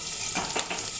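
Dried kachki fish frying in a pan, a close steady sizzle with a few scraping stirs, brief and unaccompanied by speech.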